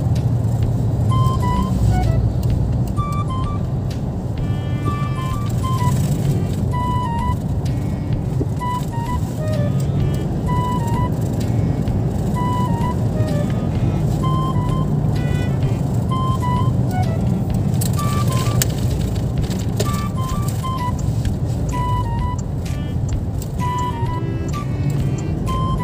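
Steady road and engine drone from inside a car cruising on an expressway, continuous and even, with a faint repeating beeping tone recurring throughout.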